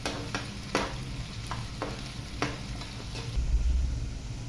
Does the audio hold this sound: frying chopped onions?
yes